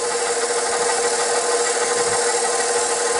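KitchenAid bowl-lift stand mixer running at speed one, a steady, close motor whir that holds constant throughout with no voices over it.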